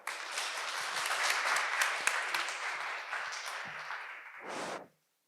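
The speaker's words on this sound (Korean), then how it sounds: "다시 한번 큰 박수 부탁드립니다." A concert audience at a string quartet lecture-performance breaks into warm, sustained applause for the cellist, a dense even wash of many hands that swells, holds and then stops abruptly.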